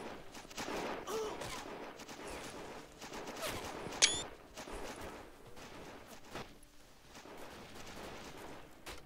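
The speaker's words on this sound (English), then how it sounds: "Oh yeah, now they start fire." Scattered musket volleys in the strategy game Battle of Empires: Russia, crackling shots at moderate distance over a busy battlefield ambience, with one sharp nearer crack and quiet talk around it.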